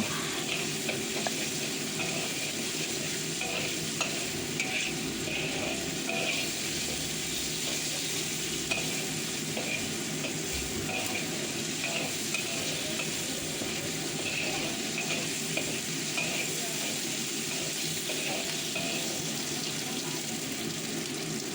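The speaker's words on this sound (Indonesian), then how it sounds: "nah udange tak lebokke, tak oseng-oseng juga" Shrimp being stir-fried in a pan sizzles continuously with a dense crackling hiss, joined by scraping and stirring clatter, close and steady throughout without speech.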